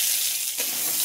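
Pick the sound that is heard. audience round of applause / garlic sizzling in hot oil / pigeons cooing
garlic sizzling in hot oil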